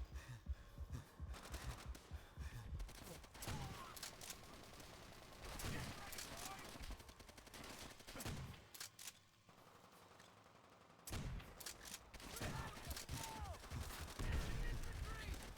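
Shotgun gunfire in Bird At War comes as repeated loud blasts in uneven bursts, with one quieter lull partway through.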